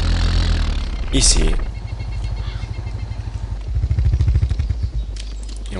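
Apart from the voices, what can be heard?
quad bike engine in the video game DayZ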